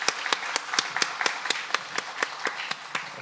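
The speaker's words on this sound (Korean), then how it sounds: "박수로 환영하겠습니다." A church congregation claps in welcome for a newly registered member during a Sunday praise service, about a dozen sharp, fairly regular claps over roughly three seconds, with no talk heard.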